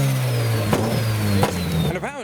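A Nissan S14 with an SR engine, tuned to about 500 horsepower, revs at a drift event, its engine note rising and dropping in quick surges close by, with voices faintly underneath.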